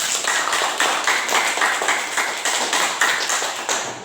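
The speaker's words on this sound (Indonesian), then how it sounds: "Coba tepuk tangan." A classroom of students claps for a group that has just presented. The hand claps come in a quick, crisp rhythm, close and fairly loud, with no talking over them.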